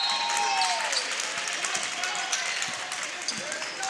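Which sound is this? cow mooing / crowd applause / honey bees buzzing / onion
crowd applause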